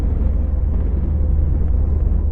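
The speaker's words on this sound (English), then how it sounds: "Can you make that rumbling sound in your ear?" A low, continuous rumbling made by tensing a muscle in the ear canal, dense and steady for a few seconds without any speech.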